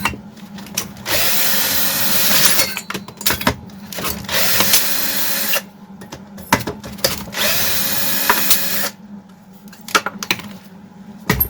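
Parts of a Grunhelm GR-45 petrol brush cutter, which squeaks and won't start, are unscrewed with a screwdriver: close, loud whirring bursts of a few seconds each, separated by short pauses and small clicks, with no talking.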